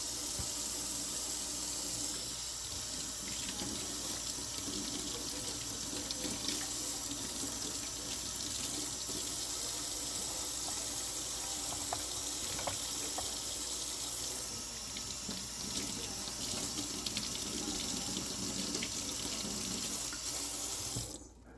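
Tap water runs steadily into a sink as a mushroom is rinsed under it, a continuous close hiss with small splashes that shift as the mushroom is moved, ending abruptly when the tap shuts off.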